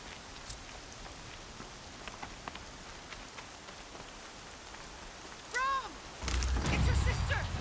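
Steady rain falls in the Horizon Zero Dawn game world, a soft, even hiss of drops throughout, joined near the end by a brief whooshing effect and then a louder rumbling burst.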